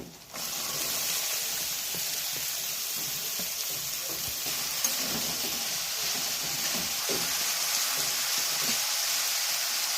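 Banana flower and potato frying with ginger-garlic paste in a pan, a steady close hiss and sizzle running throughout with occasional soft stirring taps, no talking.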